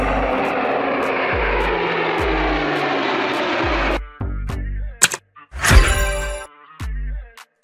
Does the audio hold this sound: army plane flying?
yes